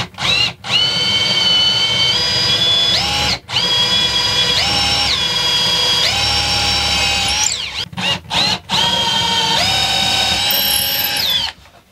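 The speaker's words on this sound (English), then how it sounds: "So now I have to measure the center point and get these drilled." A power drill boring holes while mounting a TV inside an RV, the motor whining steadily in long loud bursts with rising and falling pitch, broken by several short pauses between runs.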